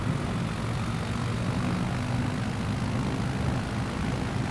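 A Savage Cub light aircraft's engine drones steadily during takeoff, a loud continuous propeller roar heard from inside the cockpit with no breaks or talk.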